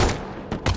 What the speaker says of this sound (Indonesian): Baku tembak pun tak bisa dihindari dan Jibril tewas dalam kejadian tersebut.